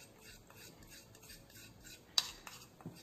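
A utensil stirs a mixture of alpha-arbutin, DMSO and oil in a small container, giving faint, rhythmic clinking and scraping with one sharper tap near the end.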